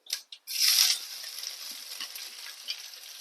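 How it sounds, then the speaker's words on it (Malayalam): Dried chillies, garlic, ginger and green chilli sauté in hot oil in a pan, giving a close, steady hiss and sizzle after a few sharp drops, with faint stirring scrapes throughout. "എല്ലാം കൂടെ ഒന്ന് വഴറ്റി കൊടുക്കാം"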